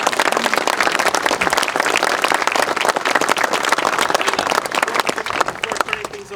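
A large audience applauds at a public safety building ribbon cutting, dense continuous clapping that holds loud and steady for several seconds before thinning slightly at the end.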